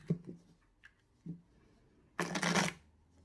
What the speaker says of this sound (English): So you can once again false shuffle the deck.